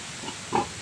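A Durox white sow grunts once or twice, short low grunts close by with faint hiss in the background, no talking.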